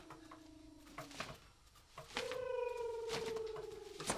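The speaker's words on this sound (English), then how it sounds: "It's only a bird." A bird coos softly in two drawn-out calls in a quiet outdoor setting, with faint pattering and background rustle between the calls.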